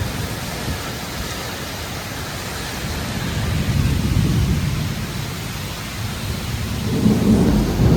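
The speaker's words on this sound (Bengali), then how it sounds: "অবস্থা বৃষ্টি দেখো, ঝড়ের আকার দেখো, আর হাওয়া দেখো।" A nor'wester storm in Murshidabad, West Bengal brings a loud, constant wash of heavy rain and wind. Deep thunder rumbles swell up near the middle and again toward the end, with no voices.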